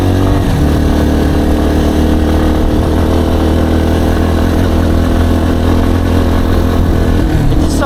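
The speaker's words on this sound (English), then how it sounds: "now I'm on a 2025 TTR230 and this thing is just so easy to ride." 2025 Yamaha TTR230 dirt bike engine running loud and close on a trail, a steady low drone that holds with small fluctuations throughout.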